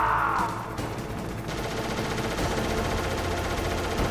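A Hind D helicopter in Metal Gear Solid fires a steady, dense stream of gunfire over a constant rotor-like roar. The noise is loud and continuous throughout.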